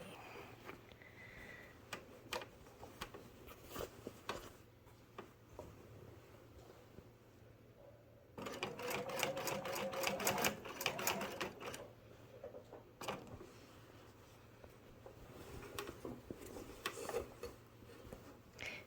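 A sewing machine stitching a patch onto a jacket, quiet and close, with short starts and pauses for pivoting and a fuller run of steady stitching in the middle, plus scattered clicks and handling noise.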